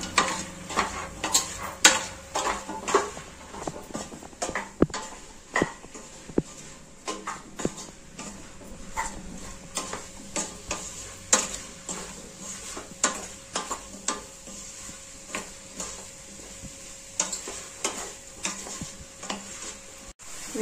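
Spices being stirred into vegetable biryani in a pan, a steady run of spoon scrapes and clinks against the cookware over a soft sizzle, close and continuous with no talking.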